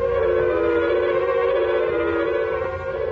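A telephone rings at an air defense filter center, a sustained, steady tone that holds evenly for about three seconds and then fades slightly, fairly loud with no talk.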